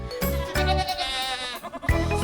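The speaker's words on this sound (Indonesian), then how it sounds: "jenis kambing yang digunakan adalah ras yang memiliki ukuran besar, seperti kambing Etawa ini" A large Etawa goat bleats loudly and close by in a few drawn-out, wavering calls, one after another, with no talk over them.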